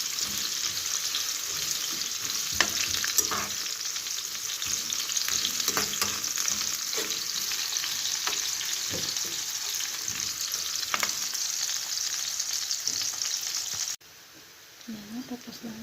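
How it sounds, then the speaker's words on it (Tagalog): Laham steak sizzling and frying in a pan, a steady loud sizzle with occasional stirring clatter throughout, fading to quieter crackle near the end. "Tatanggalin natin para yung laham naman ang ating ipiprito."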